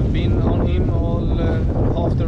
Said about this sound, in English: That's the ferry. They're really fast coming up.